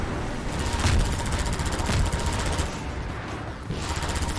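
Rapid gunfire in Half-Life 2, a dense, sustained rattle of shots with a few louder bursts, loud and continuous without talk.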